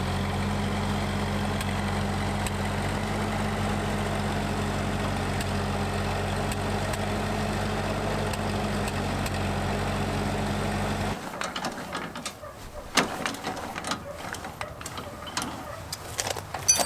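A tractor engine idles in a steady, low, continuous drone, then cuts off abruptly partway through, leaving only faint clicks and handling noises with no talk.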